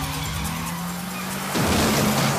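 A car in a film chase scene from Bloodfist 4 accelerates hard with a steady engine drone, then breaks into a loud, broad tire skid that fills the last second.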